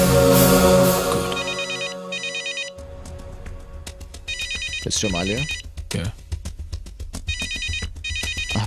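A telephone rings with a repeated electronic ringtone in regular bursts. Someone speaks briefly over it, and a dramatic film score plays underneath.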